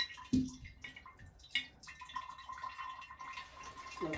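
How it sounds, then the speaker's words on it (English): Water drains from a Brondell bidet into a jar below, coming as faint, close drips and trickles, with a soft thin splash early on and no talk. "Let the water drain out."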